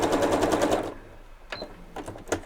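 Sewing machine stitching half-square triangle fabric pieces, a loud steady rapid whir for about a second, then stopping, followed by quieter clicks and handling sounds.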